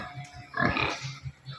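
Pigs grunting in a pig pen, a short burst of close, rough grunts and snorts rising to a louder squealing grunt in the middle, then softer low grunts trailing off.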